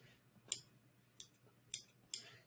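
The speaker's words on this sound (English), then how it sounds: "Using our applique scissors, we are going to trim that round." Four crisp snips of curved applique scissors trimming embroidered felt, spaced about half a second apart, close and quiet against a faint background hum.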